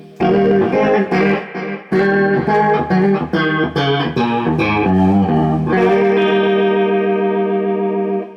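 Electric guitar through a DLS RotoSIM rotary speaker pedal plays a choppy run of chords, then one long held chord whose rotary swirl quickens, the warble speeding up as it rings out.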